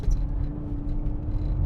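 A 2023 Audi RS Q3 Sportback Edition 10 Years with its five-cylinder engine drives a twisting road, producing a steady low rumble with a sustained droning tone underneath.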